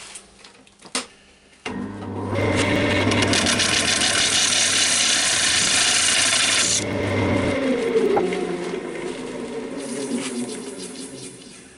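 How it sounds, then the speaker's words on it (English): A thin parting tool cuts into a large wooden bowl spinning on a woodturning lathe, giving a loud, steady scraping rasp that holds for several seconds, then eases into a softer, lighter cutting sound. "So I'm just going to pop in with the thin parting tool, give me a guideline."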